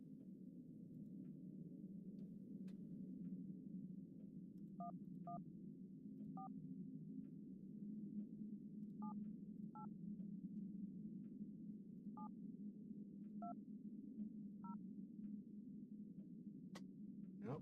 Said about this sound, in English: I try calling a phone number,